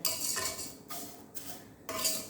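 Vermicelli frying on low heat in a pan, stirred repeatedly with a metal utensil: soft dry rustling broken by a few scraping strokes against the pan, close and fairly quiet, with no talk.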